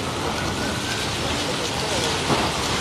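Heavy rain falls steadily across Mumbai near the Mantralaya, a dense, even hiss of downpour on surfaces filling the scene at moderate loudness, with no talk over it.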